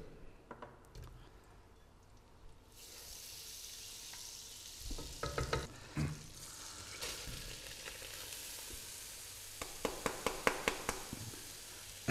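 Butter sizzles with vegetable oil in a pot on the stove before rice goes in, a steady frying hiss that swells partway through, with occasional crackles and spatters near the end.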